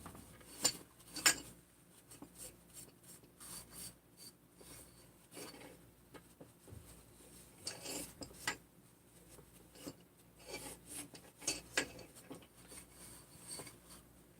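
Faint, intermittent rubbing and scraping strokes as surfaces on a Husqvarna 372XP chainsaw are wiped and degreased, a soft irregular rasp heard up close in a quiet room.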